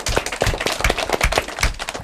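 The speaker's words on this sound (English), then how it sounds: "Big round of applause for yourselves." A small audience clapping for the teams after an elementary school academic quiz match, a brisk run of distinct hand claps, close and fairly loud, with no speech.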